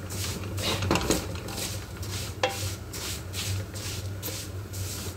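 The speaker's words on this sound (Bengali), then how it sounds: "এটাকে লাল করে ভাইজা নেব আমি" Vermicelli-like noodles are stirred and fried in a pan, giving a soft steady hiss under scraping utensil clicks and pan knocks, close up and fairly quiet, with no speech.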